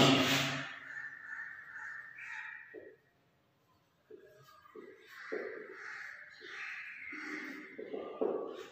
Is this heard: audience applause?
no